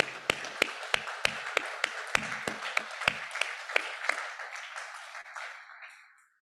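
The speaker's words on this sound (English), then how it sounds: "please join me in giving them a big round of applause" Scattered audience applause at a general meeting, a few distinct loud claps standing out over a thinner patter that gradually tapers off to silence.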